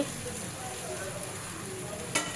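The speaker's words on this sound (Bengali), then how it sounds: "উলট পালট করে নেড়ে ছেড়ে দেখে নিচ্ছি" Vegetables with green banana and hilsa fish being turned and stirred in a frying pan, a steady soft sizzle throughout with one brief scrape of the utensil near the end.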